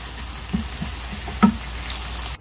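Sliced onions softening gently in a pan for chana daal fry, a soft continuous sizzle with a couple of faint taps or stirs.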